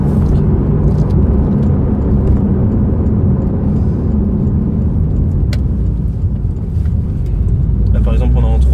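A Porsche 911 of the 992 generation accelerates at full throttle in third gear, its engine a loud, continuous deep rumble heard from inside the car that holds steady throughout.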